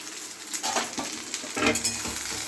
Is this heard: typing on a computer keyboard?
no